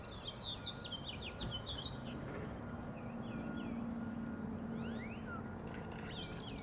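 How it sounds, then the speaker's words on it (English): Several quick, high chirps and whistled twitters from a small pet bird repeat through the stretch over a steady low hum, the calls fairly close and moderately loud, with no one talking. "I got to show a video of my bird."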